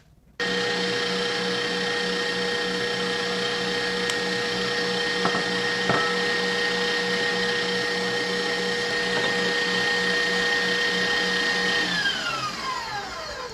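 An electric mixer whips eggs for a strawberry sponge roulade batter with a steady, loud motor whine that holds for over ten seconds, then winds down toward the end.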